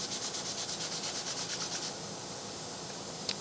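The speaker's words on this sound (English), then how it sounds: "If I just sand that down a little bit, I get rid of the residue from the burning." Old 150-grit sandpaper rubs across wood to clear burn residue, a close, steady back-and-forth scratching in quick even strokes that stops after about two seconds, leaving quiet room tone.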